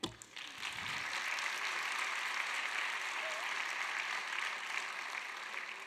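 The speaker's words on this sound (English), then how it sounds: "Now I'll clap again." Steady applause from a large graduation commencement crowd, many hands clapping at once in a dense, continuous wash that holds evenly from start to finish.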